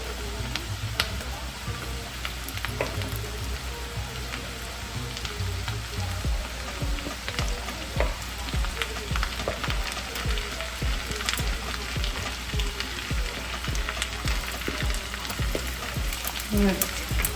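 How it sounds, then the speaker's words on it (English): Shrimp sizzle in melted butter with garlic for a seafood boil, a steady crackling hiss broken by frequent small pops and occasional utensil clicks. "Let's get our shrimp in the butter."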